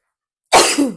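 A single sharp, explosive sneeze bursts out after half a second of silence, loud and close, with a brief trailing exhale.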